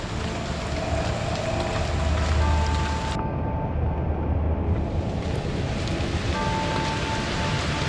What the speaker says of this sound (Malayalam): മഴ കൂടിയേട്ടാ.